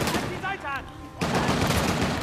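Gunfire in the Uncharted: The Lost Legacy video game, dense and loud with sustained shooting throughout, briefly broken by a short whooshing effect in the middle.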